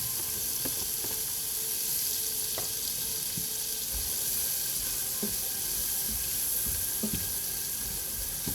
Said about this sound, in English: the pot has oil in it already. And we're going to add the onion and the celery